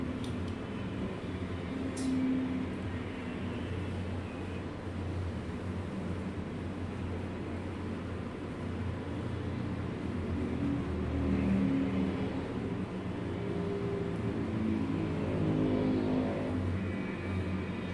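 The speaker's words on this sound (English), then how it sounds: "I love the sound of those really early bikes." Early vintage racing motorcycles at a road-racing circuit give a steady engine drone from a distance, rising and swelling a little as the bikes pass, with no voices.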